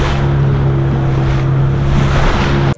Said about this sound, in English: When the waves like this, it's very rough.